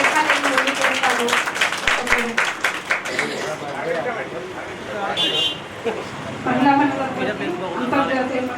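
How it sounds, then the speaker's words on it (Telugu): An audience at a restaurant's International Women's Day celebration claps loudly, a dense burst of applause in the opening seconds that gives way to a voice speaking over lingering background noise. "ఒకసారిగా గట్టిగా చప్పట్లు కొట్టాలి."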